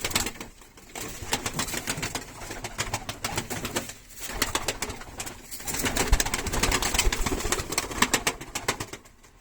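Racing pigeons, white and cream birds in a loft, coo continuously alongside rapid wing flaps and fluttering, with busy overlapping bird noise throughout.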